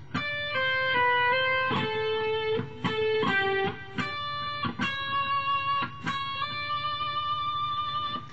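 A guitar picks out a melodic phrase from Pachelbel's Canon in clear single notes, some ringing and sliding, played alone at a steady, moderate pace.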